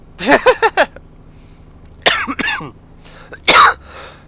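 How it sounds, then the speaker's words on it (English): A harsh coughing fit: a rapid run of four or five loud coughs, a pause, then a longer wheezy burst and one more hard cough, close by. "Massive coughing fit."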